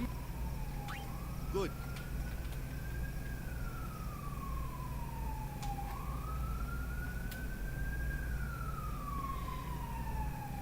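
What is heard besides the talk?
emergency vehicle siren on road outside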